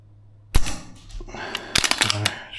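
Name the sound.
VFC URGI gas blowback airsoft rifle shooting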